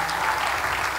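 Church congregation applauding, a dense steady clatter of many hands that fills the whole second without pause.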